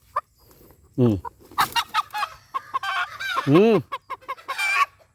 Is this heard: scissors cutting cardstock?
no